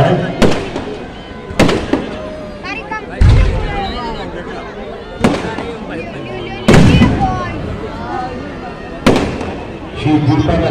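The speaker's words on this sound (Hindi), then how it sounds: "आतिशबाजी में विभिन्न रंगों का समिश्रण आतिशबाजी की विशेषता होती है" Fireworks at a Meghnath Vadh celebration in Kanpur bang and crackle repeatedly, with loud bursts every couple of seconds over a constant murmur of crowd noise.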